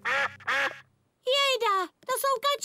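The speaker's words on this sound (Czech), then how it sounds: "Jejda, to jsou kačenky." Cartoon ducks in a Czech-dubbed Peppa Pig episode quack in a few short, voiced bursts, with speech present.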